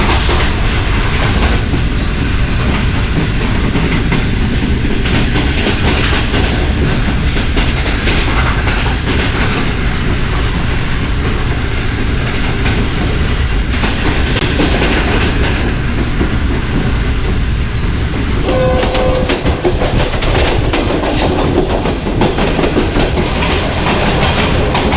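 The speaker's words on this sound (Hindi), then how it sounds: "खारियाँ क्रॉस कर चुकी है ट्रेन" A Sir Syed Express passenger train running on rails, loud, continuous rumble with rhythmic clickety-clack of the wheels heard from inside the carriage.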